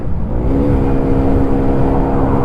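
A motorcycle bought for 20,000 lira rides at easy speed, its engine giving a loud, close, steady low drone with a slight rise in pitch and no clear gear shift.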